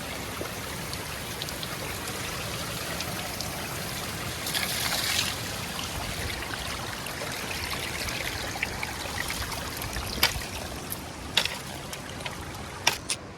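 A clear jungle stream flows steadily in a continuous soft babble and trickle, with a few brief splashes and drips standing out near the end.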